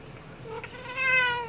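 A cat meows near a food dish during training to wait and back away on command, a rising tonal meow that swells loud at the end of a short, quiet stretch.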